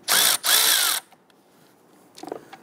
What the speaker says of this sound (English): Using a 10 millimeter socket, let's go ahead and loosen the ground terminal on the battery.